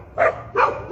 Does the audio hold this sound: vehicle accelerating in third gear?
no